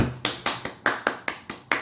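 A single person claps their hands eight times in a quick, fairly even rhythm, each clap a sharp close slap with a short decay, with no talking over it.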